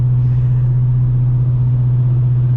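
A 2018 Dodge Challenger R/T 392 cruises in sixth gear at about 1100 RPM, its engine a loud, steady low drone with an even hum inside the cabin and no voices.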